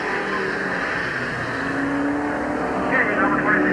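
Race cars roar around the track at Midvale Speedway during the 1988 fall classic, a dense engine rumble swelling toward the end while an announcer talks over it.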